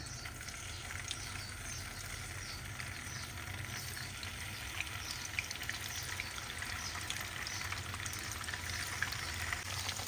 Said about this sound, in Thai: แล้วนำเต้าหู้ลงทอดเลยค่ะ